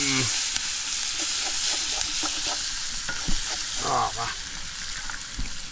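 Potatoes fry in a pan during outdoor cooking on an island, a strong continuous sizzle with repeated stirring scrapes, faint voices now and then.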